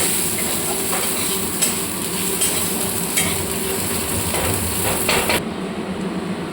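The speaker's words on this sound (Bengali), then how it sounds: "আমি যে রসুন থ্যাতো করে রেখেছিলাম সেই রসুনগুলো দিয়ে দিলাম। এবার এটা দিয়ে ভালো করে ভাজতে হবে।" Crushed garlic and sliced dried red chilli frying in hot oil in a pan while jute leaf greens are being cooked, a steady close sizzle with occasional stirring clicks that cuts off near the end.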